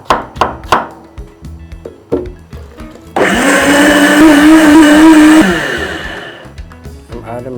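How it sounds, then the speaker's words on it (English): A kitchen blender whirs loudly on garlic and pepper for a couple of seconds, then winds down, after a run of sharp knocks and taps on the counter before it starts. "I'll now blend my garlic and then pepper as usual."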